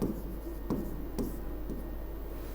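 Chalk or a marker scratches across a board in short repeated strokes over a steady background hum, with a few brief taps between strokes and no talking.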